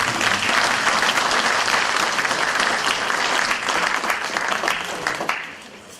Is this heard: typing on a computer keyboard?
no